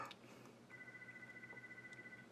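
A house phone ringing with a steady electronic trill that starts shortly into the clip and continues, faint and somewhat distant, with no one talking over it.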